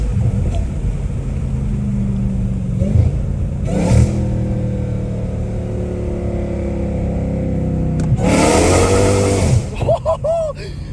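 A catless Dodge Hellcat Redeye exhaust revs hard at night, its low rumble building into a loud roaring burst near the end, close and steady underneath.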